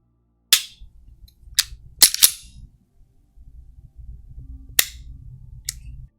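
Sharp trigger breaks and reset clicks from a Sig P365XL Spectre Comp pistol with a Sig Custom Works trigger: about five crisp, close, loud snaps spread over several seconds, two in quick succession, over a faint low background murmur.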